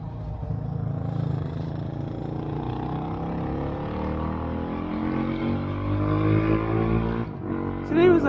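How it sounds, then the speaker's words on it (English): A dirt bike passes along a street on a hot day, its engine note rising and falling as it goes by at moderate distance, with ongoing traffic noise and a brief voice at the end. "All these people in their noisy damn vehicles. That's a dirt bike."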